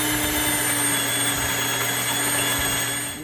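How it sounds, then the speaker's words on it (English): An electric grain mill grinds red and white wheat berries into flour, producing a loud, steady whining roar with a constant motor drone that holds for several seconds before easing slightly at the end. "I'm gonna go ahead and mill these to turn them into beautiful flour"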